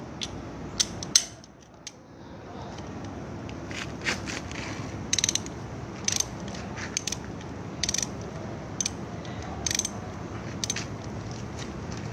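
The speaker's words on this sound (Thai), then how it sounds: "น็อตตัวที่สอง ใช้บล็อกเบอร์สิบสอง" A size 12 socket wrench loosens a nut on a motorcycle shock absorber, giving a run of close, crisp ratcheting clicks in short bursts over a low workshop hum.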